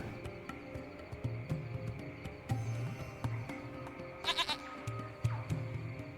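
A goat bleats a few times in the adventure game Lost Horizon, short nasal cries spread over a croaking, chirping outdoor backdrop, fairly faint and without speech.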